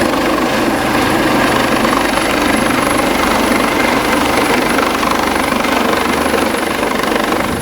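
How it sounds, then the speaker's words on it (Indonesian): A Basarnas rescue helicopter flies during a flash flood evacuation in Agam, West Sumatra. Its steady, loud rotor and engine roar is continuous and close, with no talk. "Basarnas mengerahkan helikopter untuk evakuasi korban banjir bandang di Kabupaten Agam"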